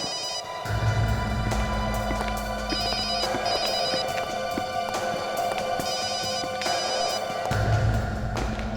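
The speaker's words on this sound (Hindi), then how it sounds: "फोन बज रही है।" A telephone rings steadily with a repeating electronic trill, moderately loud and close, continuing for several seconds without any voices.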